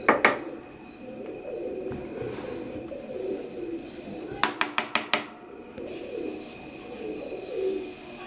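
Teddy 128 pigeons of an Oman bloodline coo in low, rolling murmurs through a night-time loft, with a quick burst of sharp clicks or taps near the middle and steady faint background hiss.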